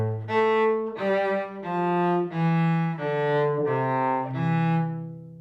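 Bowed cello plays the second ending of Hall of the Mountain King, seven sustained, connected notes in a steady rhythm, rich and close with no voices.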